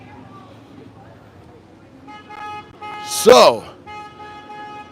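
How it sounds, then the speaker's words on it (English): At a street protest, a car horn gives one short, loud honk over passing traffic, with people talking nearby before and after. "A lot of people honking in support of signs."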